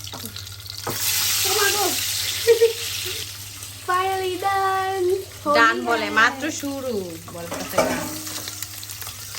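An egg fries in a pan and is stirred, its steady sizzle running underneath several people talking nearby.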